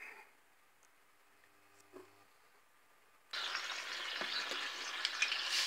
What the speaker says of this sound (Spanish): Calentamos aceite.